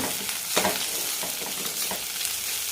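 Sliced onions and green chillies sauté in a pan for a hotel-style fish mango curry, making a continuous close sizzle with scattered spoon scrapes and soft clatter throughout.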